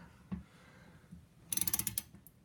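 Socket wrench ratcheting on a toilet seat bolt's nut, a quiet knock early on, then a quick run of about ten close, crisp clicks, with no voices.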